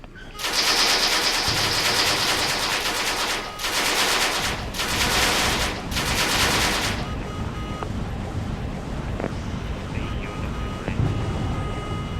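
Gunfire in the video game Petrolia: dense, continuous bursts of automatic weapon fire that fill the first seven seconds in loud stretches, then give way to scattered, quieter shots and rumbling game noise.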